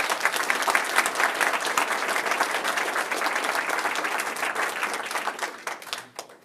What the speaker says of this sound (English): I'll give Grant one more round of applause.